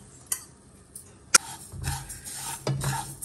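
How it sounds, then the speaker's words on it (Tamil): Sesame seeds roast in a pan on a stove, with faint scraping stirs and a few light metallic clinks of a utensil against the pan. "எள்ளை 150 கிராம் இதில் போட்டு நான் வறுத்துக்கிறேன்."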